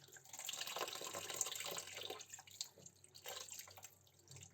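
Running tap water splashes and drips steadily over a goat head being washed in a sink, a continuous close pour with fluctuating splashes and no talking.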